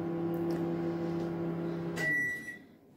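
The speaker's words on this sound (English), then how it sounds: "I've got dark chocolate in the microwave just now." A kitchen microwave oven heating dark chocolate gives a steady droning hum that stops abruptly. A high beep follows and rings out alone, close and clear.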